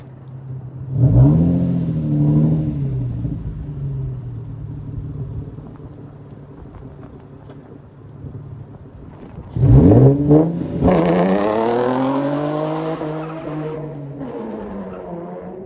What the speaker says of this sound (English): Hopefully no cops hear this because this car is super loud